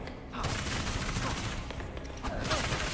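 Gunfire in the video game Gotham Knights: dense bursts of shots layered over game music and ambience, loud and sustained, with a brief lull before another volley near the end.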